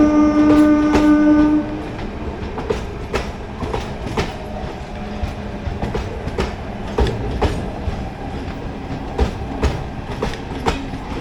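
A train horn sounds loudly at first, then an EMU commuter train near Shakur Basti and Ghaziabad rolls past with rhythmic clickety-clack of wheels over rail joints, steady and close.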